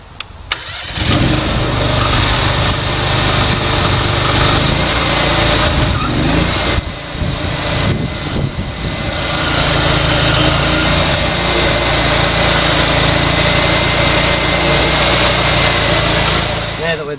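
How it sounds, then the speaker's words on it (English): The engine of a Graden Contour Sand Injector starts and runs loudly and steadily, a continuous mechanical roar with a brief dip partway through. "we have to start the engine, do a small run and then check the depth."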